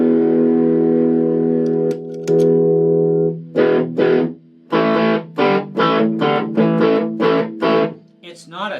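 An electric guitar played through a Marshall Shredmaster reissue distortion pedal rings out in long sustained chords, followed by a run of short, choppy distorted stabs in a steady rhythm.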